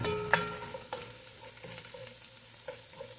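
White onion with minced garlic frying and caramelizing in a pan: a quiet, steady sizzle with occasional light spatula scrapes and clicks against the pan, no voices.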